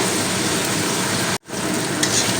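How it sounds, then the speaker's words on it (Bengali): Shrimp fry in a pan with a loud, steady sizzle and crackle, close up, broken by one brief moment of silence, with no talk. "তখন তো চিংড়িগুলোও ভাজা ভাজা হয়ে গিয়েছে"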